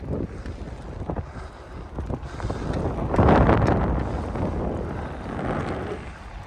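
Strong wind buffets the microphone while riding a bicycle uphill outdoors near the Olympic Park in Adler, rising into a louder roaring gust in the middle before settling back to a steady rush.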